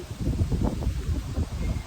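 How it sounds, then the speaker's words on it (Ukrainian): Outdoor wind buffets the microphone in irregular low rumbling gusts, close and fairly loud, with no talk over it. "Бо тут такий вітер"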